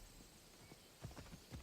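A summoned horse in Assassin's Creed Odyssey trots up with soft, rapid hoof clip-clops that grow louder toward the end, over quiet ambient background.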